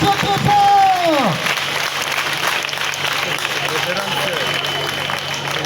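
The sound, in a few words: pupils applauding and cheering loudly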